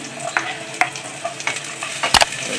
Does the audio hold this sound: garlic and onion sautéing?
yes